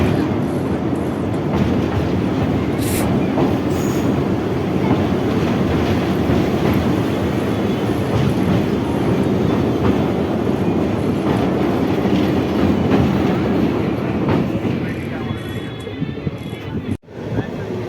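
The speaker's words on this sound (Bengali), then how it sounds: "জঙ্গল থেকে নদী, নদী থেকে পাহাড়, এইভাবেই আমাদের ট্রেন ছুটে চলল তার গন্তব্য হাসিমারার উদ্দেশ্যে।" A passenger train running on rails between New Mal Junction and Hasimara, a loud continuous rumble with rhythmic clickety-clack and wheel noise, steady throughout before a brief dip near the end.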